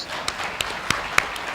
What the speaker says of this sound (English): may I request the audience to give them a round of applause